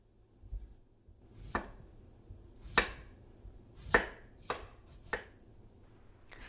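A knife cutting turnip into strips on a board, with six distinct, crisp chops spaced irregularly about a second apart, close and clear against near silence.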